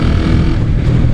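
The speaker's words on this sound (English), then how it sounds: "I haven't heard a 250 cruiser that sounds anything like this without aftermarket exhaust." A stock 1996 Honda Magna 250S cruiser motorcycle engine revs loudly and close, a dense, throaty roar with a slight swell and dip over a brief moment, with no one talking.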